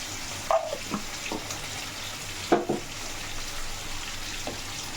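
Fennel, a small piece of star anise and other whole spices heat in a pan for a Kerala-style roasted coconut chicken curry, giving a steady low sizzle broken by a few soft stirring scrapes.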